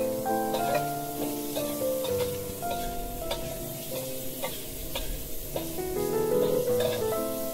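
Bitter gourd with garlic, ginger and sugar stir-fries in a hot wok, a close continuous sizzle broken by clattering stirs and spatula taps, with soft music playing underneath.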